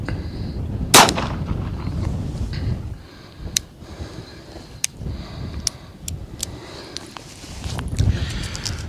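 An Uberti CMS PRO .45 Colt revolver fires an 85-grain hollow point round outdoors: one loud, sharp report near the start, followed by scattered faint clicks and handling noises.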